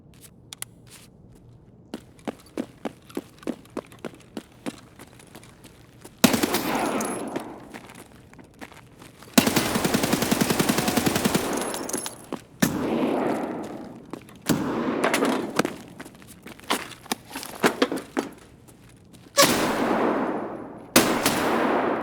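Video game gunfire: scattered single shots give way to long, loud bursts of rapid automatic fire, with several sustained volleys separated by short pauses.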